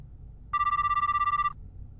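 A phone call to Moka rings out in a video game. A single bright electronic ring burst lasts about a second, warbling in rapid even pulses over a quiet background with no speech.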